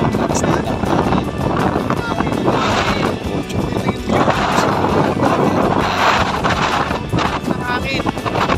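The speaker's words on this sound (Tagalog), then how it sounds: "Kasi sa sobrang lakas din ng hangin." Strong wind buffeting the microphone during a motorcycle ride, loud continuous rushing roar with gusty surges, close and steady.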